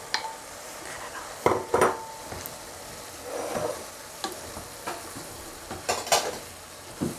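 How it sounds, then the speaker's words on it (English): Carrot and zucchini stirred into browned bolognese meat cooking in a pan, with a spoon scraping and knocking in a few short bursts over a soft, steady sizzle. "Stir this in."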